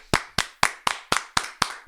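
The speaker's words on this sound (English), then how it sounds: "So round of applause to her." Seven sharp hand claps in a steady, even rhythm, close and fairly loud with no other sound, a small round of clapping on a podcast.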